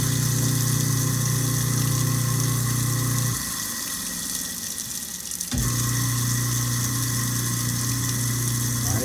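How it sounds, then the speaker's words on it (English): A kitchen garbage disposal runs with a steady motor hum and low drone over rushing tap water, dips briefly in the middle, then resumes at full strength. "Whenever you use a disposal, always make sure that the water is running"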